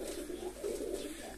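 Pigeons in a breeder's loft during mating season give a brief low cooing, soft muffled murmurs close by with no talk.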